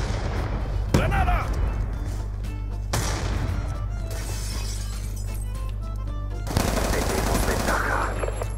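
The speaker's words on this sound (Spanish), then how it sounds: "¡Granada!" A grenade blast in a first-person shooter match, a sharp burst cutting through steady gunfire and a low engine-like rumble, with other loud crashes following close behind.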